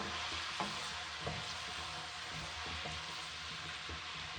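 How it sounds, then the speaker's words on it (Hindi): Two medium-sized, finely chopped onions fry in hot oil in a pan, giving a steady, quiet sizzle with a few soft stirring knocks. "दो दरमियाने साइज़ के प्याज डालेंगे इसमें, बारीक कटे हुए। प्याज़ों को लाइट ब्राउन करेंगे।"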